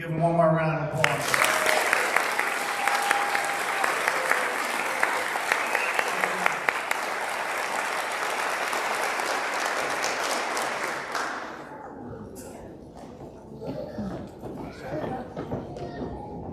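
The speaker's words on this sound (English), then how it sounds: "We'll give them one more round of applause." Enthusiastic audience clapping at a middle school eighth-grade stepping-up ceremony, a dense sustained round of applause that fades after about eleven seconds into quieter room murmur and a voice.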